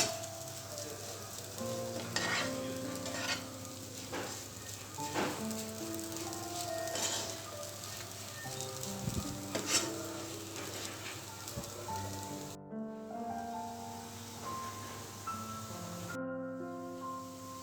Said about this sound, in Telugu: మసాలా మిశ్రమాన్ని వంకాయలతో పాటు సిమ్లో బాగా ఫ్రై చేసుకోవాలి.